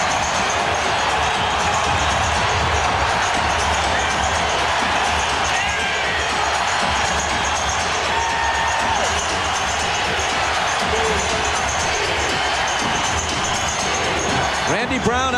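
Loud, continuous crowd roar fills a packed basketball arena during a 1998 Eastern Conference Finals playoff game, swelling and cheering throughout without letup, with squeaks and bounces buried beneath the din.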